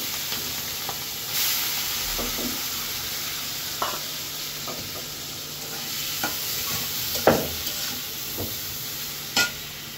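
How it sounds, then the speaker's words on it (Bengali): Shrimp frying in a wok, a steady hissing sizzle with occasional spatters and the clink of stirring, close and continuous without speech. "তো এই একই কড়াইতে আমি এই যে চিংড়ি মাছগুলো ভেজে নেব।"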